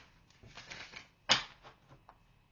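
A tarot card deck is shuffled by hand: soft papery rustles build into one sharp, close riffling burst, then fade into a few lighter flicks, all fairly quiet with no talking.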